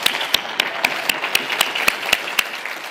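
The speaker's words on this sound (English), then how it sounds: "And let's give a round of applause to Lohman for doing such a great job organiz" Steady applause from a conference audience, a dense wash of many hands clapping with sharp, evenly spaced louder claps punching through at a regular beat, held at a constant level throughout.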